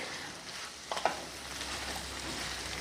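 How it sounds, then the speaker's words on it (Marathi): Vegetables with salt being stirred in a pan for veg pulao: a soft, fairly quiet sizzle with a couple of quick utensil scrapes near the one-second mark, and nobody speaking. "आता पुन्हा सगळं व्यवस्थित मिक्स करून घेतले।"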